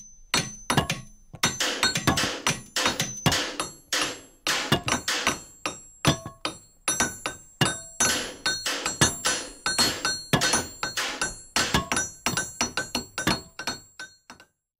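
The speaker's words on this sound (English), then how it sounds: "Chapter 3: The Persistent Digging and Hammering." Repeated metal-on-metal hammer strikes and clanking at an iron wall, a dense, steady rhythm of sharp ringing blows with no voices.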